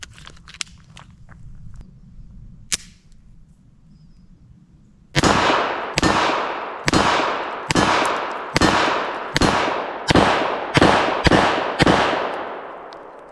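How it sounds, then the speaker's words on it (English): A .380 Bodyguard 2.0 pistol fires ten Fiocchi 95 grain full metal jacket rounds in a steady string of sharp, loud cracks, each ringing briefly, after a few quiet clicks of handling. "we're going to do another 10 rounds of the Fiachi Full Metal Jacket 95 grains"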